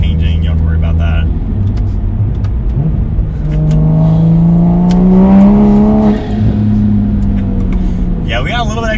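A Toyota A90 Supra fitted with an Armaspeed carbon fiber air intake hums at idle, then revs up with a rising engine drone and eases back down, loud and close.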